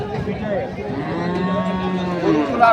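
Cattle at a busy bull market, a long loud moo close by over a murmur of crowd noise and background voices.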